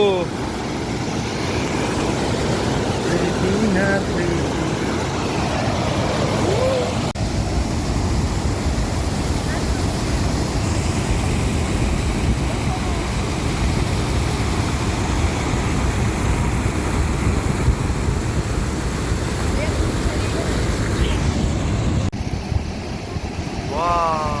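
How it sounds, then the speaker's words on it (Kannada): Water rushing steadily at the head of a canal where it leaves a river backwater near Mysore, a loud continuous roar that runs for the whole stretch, with voices faintly present under it. "ಏನು ವಾಟರ್ ಸೌಂಡು"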